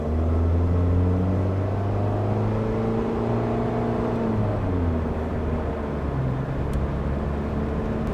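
A Nissan Versa rental car's engine revs hard with a buzzy, resonant exhaust drone, pitch climbing and dropping through gear changes, loud and close with no talk.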